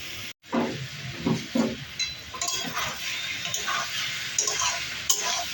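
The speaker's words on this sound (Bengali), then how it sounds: "অল্প একটু ভেজে নেব, তারপরে এগুলোকেও নামিয়ে নেব।" Soybean chunks and pointed gourd frying in oil in a pan, with a soft steady sizzle under clinks and scrapes of a spatula stirring, close by.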